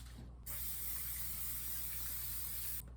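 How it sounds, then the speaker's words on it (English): Canola oil cooking spray hisses from an aerosol can onto a baking tin in a single steady burst of about two and a half seconds, close to the microphone and with no voices over it. "Canola oil cooking spray."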